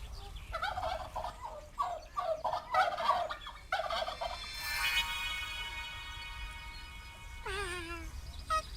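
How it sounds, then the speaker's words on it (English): A turkey gobbles in a fast, rattling burst of calls, followed by a sustained harmonic cry and a final wavering call. It is fairly close and clear, with no talk. "Wow, a turkey."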